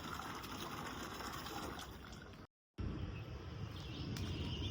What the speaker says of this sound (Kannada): ಗಿಡಕ್ಕೆಲ್ಲ ನೀರು ಹಾಕಿದ್ದಾಯಿತು.